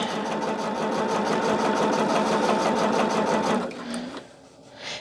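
Sewing machine running steadily as it stitches a quilt, its rapid even chatter filling the first three and a half seconds before stopping with a short reverse-stitch burr and the soft click of the thread cutter.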